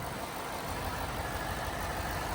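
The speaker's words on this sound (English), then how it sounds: "Idle smooth, sounds great, really healthy," A 2017 Ford Mustang GT V8 idles with a steady, even rumble, close and unbroken, with no voices over it.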